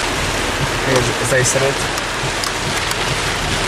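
Heavy tropical-storm rain from Tropical Storm Ernesto pours in a steady, dense hiss in Florida, constant and loud throughout, with a voice speaking briefly over it.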